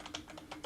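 Keys tapped on a computer keyboard in quick, uneven clicks, light and close, about half a dozen strokes in under a second.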